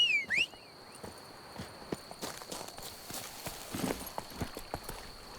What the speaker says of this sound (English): So we'll just call our horse and then we'll send it right to it.